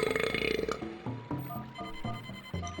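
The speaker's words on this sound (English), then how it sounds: "Burp." A game character in Star Fox Adventures lets out a loud, gurgling burp over the game's music, one short belch sitting in the middle of the soundtrack.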